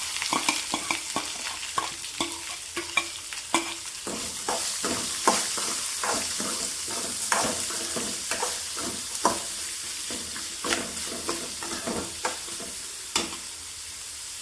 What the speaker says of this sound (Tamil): வெங்காயம் நல்லா கோல்டன் ப்ரௌன் வரட்டுங்க. அதுவரை நல்லா வதக்கிக்கலாம்.